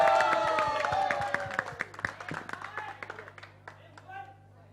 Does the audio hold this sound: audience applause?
yes